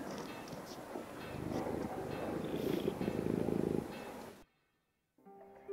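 A fat cat purrs in the Pillars of the Earth video game, a low rumbling purr building and holding for a few seconds before cutting off to near silence, then faint game sound returns.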